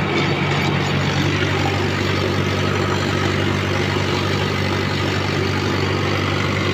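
A Swaraj 595 turbo diesel tractor engine idles in a continuous, even drone, loud and close, with no breaks or talk over it.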